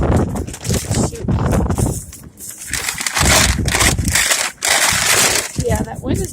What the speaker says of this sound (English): Yeah, that wind is blowing.